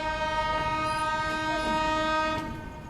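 A train runs along the main line on an Indian rail route near Gwalior, a steady loud rumble with a sustained horn sounding throughout, heard from close by, with no talk.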